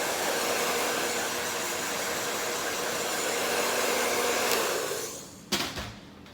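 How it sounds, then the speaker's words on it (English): A hair dryer blows loose cut hair off a salon client after a blunt, textured bob haircut, roaring loudly and steadily, then switching off near the end with a short clunk. "just make sure you blow dry all the hair off your client"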